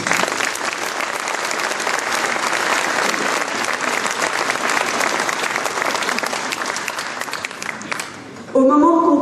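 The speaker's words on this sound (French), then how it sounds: "On peut les applaudir." An audience at a ceremony applauds in dense, sustained clapping that fills the whole stretch, fading slightly near the end before a brief shift in sound.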